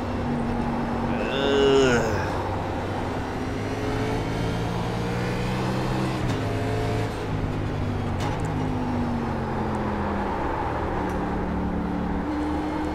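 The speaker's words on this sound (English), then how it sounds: "it's braking time and downshifting time" A NASCAR race car in the iRacing sim at Watkins Glen brakes and downshifts, engine tones stepping down through several gear changes with a brief rev blip, steady loud drone throughout.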